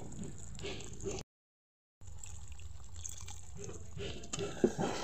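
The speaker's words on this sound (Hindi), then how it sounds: "थोड़ी सी पानी डाल देंगे" Water splashes and trickles into a pan of palak paneer amid kitchen clatter, with a brief silent gap partway through and a few small clinks near the end.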